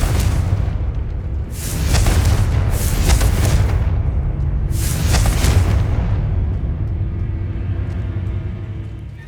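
Confringo spell blasts in the Hogwarts Legacy video game boom in three heavy bursts, each a loud crackling explosion over a constant low rumble that fades out at the end.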